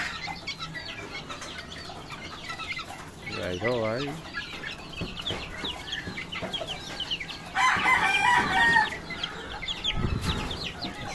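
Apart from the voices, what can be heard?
chicks clucking and rooster crowing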